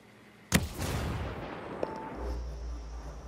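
A frag grenade goes off in the tactical shooter game Ghost Recon Breakpoint, one sharp loud blast followed by a long rumbling decay and low-end tail, heard alone without talk.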